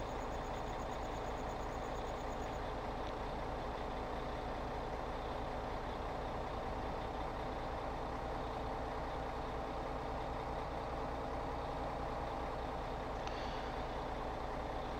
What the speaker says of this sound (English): I see that the truck is moving a little faster.